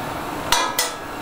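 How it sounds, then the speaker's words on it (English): A drill bit drops out of a loosened collet on a CNC mill spindle. Two sharp metallic clinks about a quarter second apart ring close and clear over a quiet shop hum. "the drill bit should fall out."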